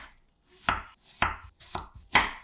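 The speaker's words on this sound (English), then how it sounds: "Grab 3 fresh apples, peel them if you'd like, and slice them into small pieces" Knife chopping fresh apples into small pieces on a board, four crisp, evenly spaced thuds close up with no talking.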